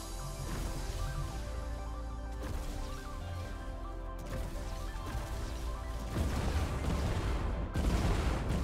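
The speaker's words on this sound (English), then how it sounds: "the explosive device triggers, blowing up our zombie and starts the fire" Dense, continuous booming explosions and crashing blasts from a Fortnite Creative game, as an explosive device blows up a zombie and starts a fire, rumble throughout, loud and layered, intensifying toward the end, with no talking.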